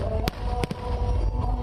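Fireworks bursting at the Ayodhya Deepotsav festival, with several sharp cracks over a constant loud crowd-and-music roar, fairly close.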